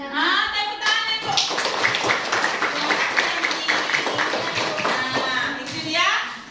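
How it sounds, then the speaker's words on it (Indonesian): Children in a classroom clap together in a quick, steady rhythm for several seconds, close and lively, with a voice and a teacher's voice at the start and end. "Tepuk tangan Ibu."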